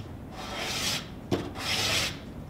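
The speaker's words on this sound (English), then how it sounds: "I'm going to use the tool called a scraper. And this is how I'll thickness this." Steel cabinet scraper thicknessing a wooden violin side, two sustained rasping strokes, each roughly a second long, separated by a brief knock, close and fairly quiet with no talk.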